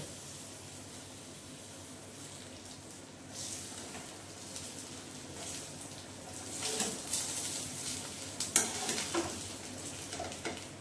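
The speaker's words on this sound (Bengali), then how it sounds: "এবারে আমি ভেজে নেব।" Onion and rice frying together in a pan, a low steady sizzle that grows louder partway through, joined by scraping stirs and occasional utensil clinks near the end, heard close with no speech.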